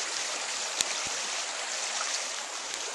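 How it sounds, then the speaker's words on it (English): Creek water flowing steadily close by, a broad continuous rush with a couple of brief knocks, no voices. "I'm still along the creek here."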